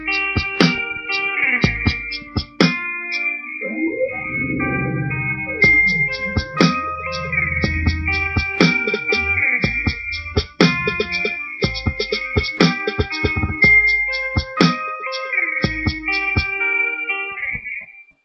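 A hip-hop beat built in Reason 4.0 as a remake of a song's hook: punchy drums and deep bass under a bright, repeating synth melody, looping steadily and loudly.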